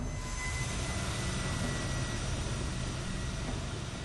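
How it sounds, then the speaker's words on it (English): A Fokker F-28 jet airliner of Turkish Airlines taxis toward runway 35 at Izmir, its engines giving a steady, unbroken broadband roar with no pauses or voices. "The crew receives clearance to taxi and heads to runway 35."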